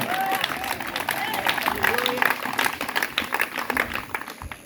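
A church congregation applauds in praise, with busy, uneven clapping and voices calling out throughout, all close and lively.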